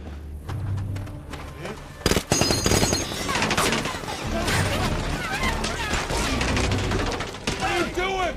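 Rapid bursts of gunfire and mechanical clatter mixed with shouting voices and crashing, loud and chaotic after a quieter opening, in an action film.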